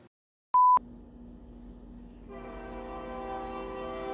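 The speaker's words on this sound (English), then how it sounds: "Of course there's a train going by." A passing train starts as a steady low rumble, then a loud, sustained multi-tone horn sounds and keeps building, preceded by a brief electronic beep.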